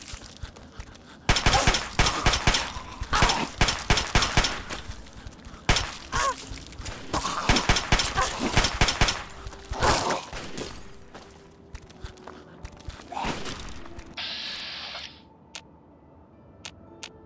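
Rapid bursts of gunfire from a 10 millimeter pistol in Fallout 3, sharp repeated shots in clusters over several seconds, tapering off toward the end with a few isolated cracks and a brief metallic click.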